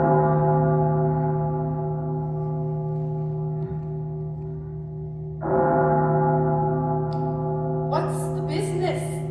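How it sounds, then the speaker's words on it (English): A large bell tolls with a long sustained ringing hum, struck again midway so the resonance swells anew, loud and continuous, with faint voices entering near the end. "Ring the bell!"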